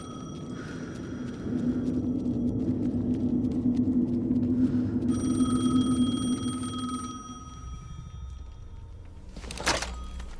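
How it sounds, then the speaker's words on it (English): Telephone ringing inside the video game Alan Wake 2, repeated electronic rings over a low droning ambient rumble, then fading away before a brief sharp knock near the end. "The phone again."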